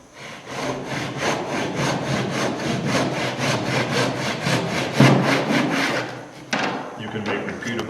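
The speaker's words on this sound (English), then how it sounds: "as long as you use a good sharp handsaw" A sharp handsaw cuts through cedar canoe strips in steady, rapid back-and-forth strokes, loud and close, before the sawing stops and a few wooden knocks follow.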